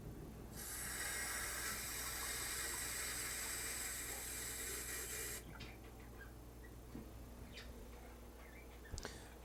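Half a cup of water runs into a chicken verde casserole mixture as a steady hissing pour that lasts several seconds. It then stops, and a few faint clinks and handling noises follow.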